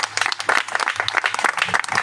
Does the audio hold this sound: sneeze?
no